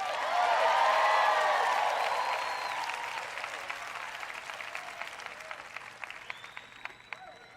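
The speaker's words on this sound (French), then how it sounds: "Allez, que quelqu'un acclame." Church audience applauding and cheering, a dense wash of clapping and whoops that peaks early, then gradually thins into scattered claps as a voice begins speaking.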